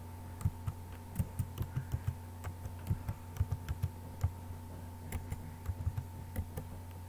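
Keys on a computer keyboard are tapped in quick irregular bursts as a username and password are entered, soft close clicks over a quiet steady electrical hum.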